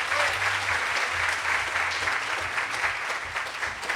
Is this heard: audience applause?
yes